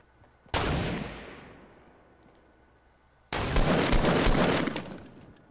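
Gunfire in the video game Fortnite: a sharp loud burst of shots that fades over about two seconds, then after a short lull a second, sustained volley of rapid fire lasting to the end.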